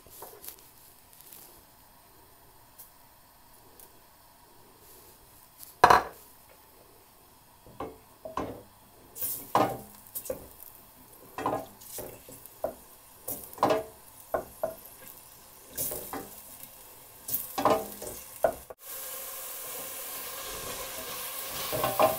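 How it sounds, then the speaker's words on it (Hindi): Garlic-ginger paste sizzles softly in hot oil while a utensil scrapes and stirs in short bursts, the frying growing louder and steadier toward the end. "जब ये थोड़ा गर्म हो जाएगा तो इसमें लहसुन अदरक का पेस्ट डाल देंगे और इसको थोड़ा सा भुनेंगे"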